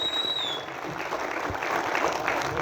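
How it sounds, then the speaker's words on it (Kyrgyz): Applause from an audience at a Kyrgyz film premiere, a steady broad patter of many hands that fills the whole stretch at moderate loudness, with a brief high tone near the start and faint voices underneath. "кол чабуулар болсун"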